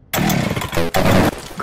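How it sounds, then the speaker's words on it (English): A chainsaw in Left 4 Dead 2 VR roars up loudly right after a short silence, with rasping revs that dip briefly and surge again, close and alone. "I got a chainsaw."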